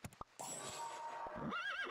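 A horse neighs in the video game Super Auto Pets, a sustained high whinny with a wavering pitch, preceded by a few short clip-clop hits, loud and alone.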